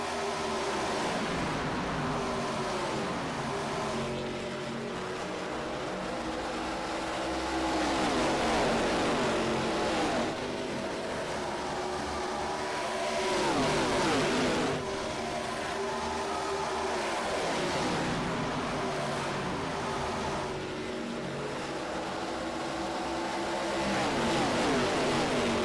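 A stock race car at Charlotte Motor Speedway, its engine roaring continuously with repeated rising and falling rev sweeps as the clutch goes in, loud and steady throughout with no voices.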